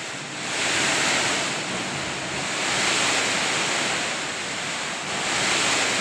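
A strong whirlwind gusts across villages in Klaten regency, a continuous loud roaring rush of wind that swells and eases in broad waves with no voices.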